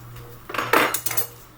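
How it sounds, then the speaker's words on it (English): Metal butter knife and offset spatula clinking and scraping together as they are handled in a kitchen, a short cluster of close, bright clatters with no talk. "now you're gonna wanna get a butter knife and an offset spatula"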